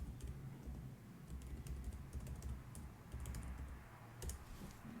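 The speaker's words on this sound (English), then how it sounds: "I'm just going to put in a simple password. Then hit enter, retype that password." Someone types a password on a computer keyboard. The soft key clicks come quickly in short, uneven bursts and stay faint over a quiet room.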